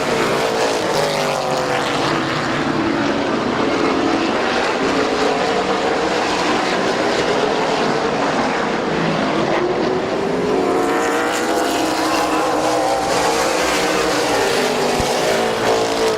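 Race cars roaring around Midvale Speedway, a continuous loud blend of engines with rising and falling revs as cars pass, heard from trackside with no break.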